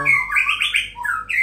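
Loud, close song from a ringed white-rumped shama, a quick run of rich whistled and chattering notes with rising and falling phrases, heard clearly on its own.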